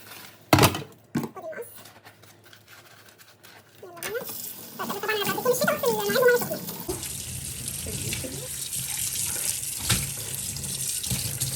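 Tap water runs steadily into a kitchen sink while two plates are washed, a continuous close splashing stream that grows louder midway, with someone talking over it at times.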